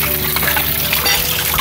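Water is stirred as it drains from the pre-filter of a recirculating tilapia fish tank, making a continuous close churning and splashing wash.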